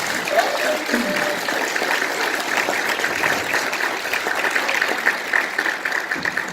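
Audience applause at a church sermon: steady dense clapping from a crowd, continuous throughout, with faint voices mixed in.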